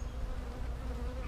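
Honeybees buzz steadily around an open hive during honey harvesting, a dense, continuous hum close by with no speech.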